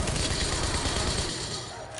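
Automatic gunfire from a hard-recoiling gun in The Division, dense and loud. Rapid shots blur into a continuous rattling roar that eases slightly toward the end.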